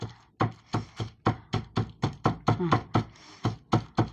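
A palm patting oiled dough flat for pappu chekkalu, a steady series of about a dozen soft, dull slaps at a regular brisk rhythm, close and alone.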